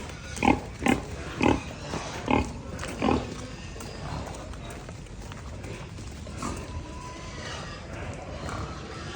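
Pigs on a road by flooded rice fields give five loud, evenly spaced grunts up close, followed by quieter snuffling and scattered animal noises over a steady background hum.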